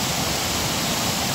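The Çiseli waterfall in Ordu, about 10 metres high, pours with a steady, dense broadband roar, close and loud, with no voices over it.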